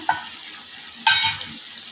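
A pan of fish curry sizzles as chili powder is stirred in, giving a continuous soft frying hiss with two brief louder scraping stirs, close and without talking.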